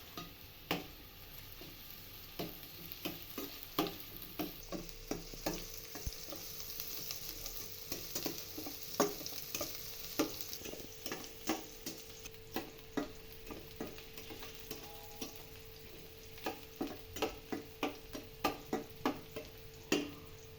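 Chopped onion frying in a pan for cabbage Manchurian, with a steady sizzle and regular scraping ticks from stirring across the whole stretch, close and fairly quiet.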